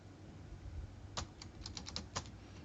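Keys tapped on a computer keyboard while entering a username: a quick burst of about eight light clicks, close but quiet, with no talking.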